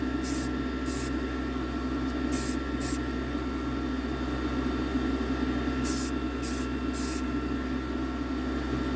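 An aerosol can sprays a light first coat of paint onto a 1964–66 Dinky Toys Panhard 24 diecast model, heard as several short hissing bursts, some in quick pairs or triplets, over a steady background hum.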